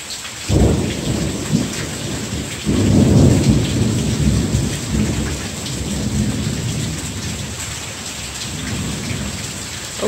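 Heavy rain pours steadily on a surface while thunder rumbles close by in several deep rolling bursts, loud and with no one speaking.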